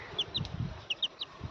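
A small chicken chick gives a few thin, high peeps in a short irregular series, close and fairly faint over low background rustling.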